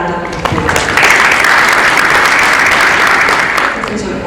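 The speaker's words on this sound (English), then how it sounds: "Can we give Professor Koolhaas another round of applause?" An audience at a health professions education symposium plenary breaks into loud, sustained applause, which swells, holds steady for a few seconds, then begins to fade.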